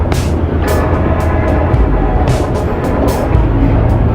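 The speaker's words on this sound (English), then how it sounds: "Is everyone excited to ride the monorail?" A monorail train runs with a steady, loud rumble and a repeating pattern of rattling clicks as the cars roll along, with no talk over it.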